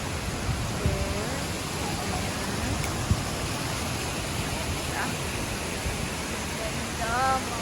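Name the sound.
Dinagat Falls waterfall rushing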